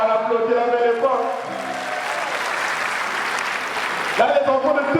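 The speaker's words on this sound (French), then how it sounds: "on applaudit la belle époque" Audience at a live show at the Palais des Congrès in Brazzaville bursts into loud, dense clapping that swells for about three seconds, with singing and voices on either side of the applause.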